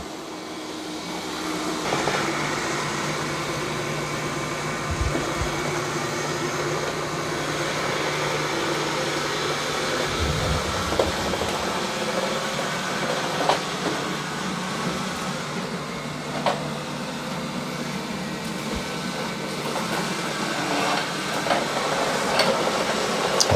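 Robot vacuum and mop running over a rug, giving a steady motor whir with soft brushing and occasional light bumps and clicks, moderately close, with no speech.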